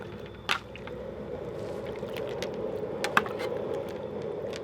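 A de-bristled broom handle used as a paddle stirs a big crab boil pot, sloshing water under a steady burner roar, with a few wooden knocks against the pot's side.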